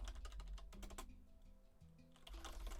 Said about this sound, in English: So what happens if I am typing like this?